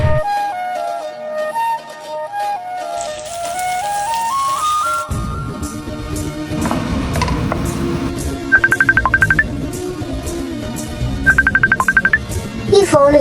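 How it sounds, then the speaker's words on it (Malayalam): A mobile phone plays a melodic electronic ringtone over a steady backing tone, with stepped notes at first and later two brief bursts of rapid trilling chimes. "ഈ ഫോണിൽ എത്ര നേരം കൊണ്ട് റിങ് ചെയ്യാ വിടുന്ന്?"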